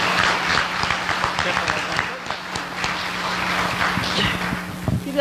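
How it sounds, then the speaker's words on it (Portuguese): An audience applauds at a Spiritist study gathering in Jaú, a continuous ragged clapping with some sharper close claps standing out and a low steady hum beneath. "Uma salva de palmas para a Celina."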